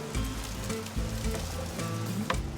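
Garlic frying in olive oil in a pan gives a steady, close sizzle with crackling pops and light clinks, with no talking.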